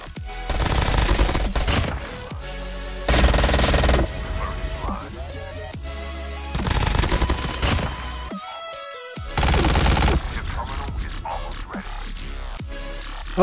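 Fennec and MAC-10 submachine guns firing in COD Mobile battle royale, loud sustained automatic bursts in about four long strings separated by quieter gaps, with a brief silence near the ninth second.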